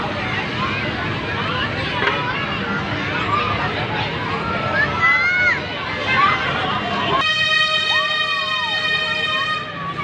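A siren-equipped emergency vehicle passes on a road beside a park, its wailing siren rising over steady traffic rumble and background crowd noise, then a cleaner rising-and-falling siren tone near the end.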